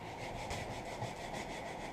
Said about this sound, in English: Let's get started on the hand sanding.